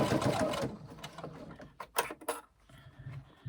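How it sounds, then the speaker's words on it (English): A sewing machine runs top stitching along the base of a tote bag, the needle rattling in short bursts broken by brief pauses, close and alone. "I'm sewing from this base side so I can see where our top stitching was"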